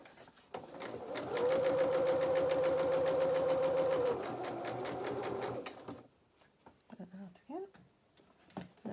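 A sewing machine stitches the fabric of an Easter bunny treat bag in a steady, fast mechanical run for about five seconds. Then it stops, leaving a few soft clicks and handling noises.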